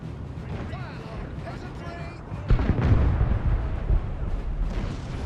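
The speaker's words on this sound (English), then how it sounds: "Artillery is starting to focus kind of this British center." Artillery fire booms through a big Napoleon Total War battle against the British center, with dense low rumbling shots and a sharp heavier blast midway over a constant battlefield din, speech faintly mixed in.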